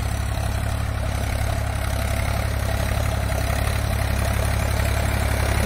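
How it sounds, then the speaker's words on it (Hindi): Solis Yanmar 5015 4WD tractor running at about 1600 RPM while pulling a 7.5-foot rotavator through grassy ground, a steady low engine drone with constant mechanical hum and no talk. "तो ट्रैक्टर हमारा 1600 RPM पे चल रहा है और घास के हिसाब से गियर को चेंज कर रहे हैं।"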